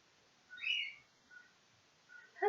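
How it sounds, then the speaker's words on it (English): Unfamiliar birds calling close by: a few short whistled chirps, separated by quiet pauses, with a slightly louder call at the very end. "I have never seen these birds before, like to come so close to us."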